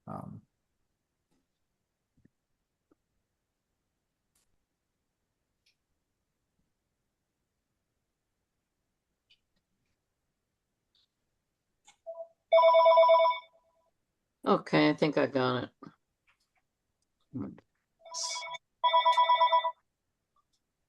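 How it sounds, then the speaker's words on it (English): A mobile phone rings during a public meeting, its ringtone sounding in several short bursts near the end, separated by brief pauses, with people speaking between the rings. "That's somebody's phone. Yeah, that's mine, sorry."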